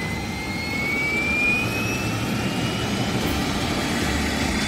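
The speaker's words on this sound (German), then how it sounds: "Tom Thomas steigt sofort in seinen Hubschrauber und lässt die Triebwerke von Wallaby an." A cartoon fire-rescue helicopter's jet engines start up, giving a continuous, fairly loud turbine roar with a rising high whine layered over a rumbling base.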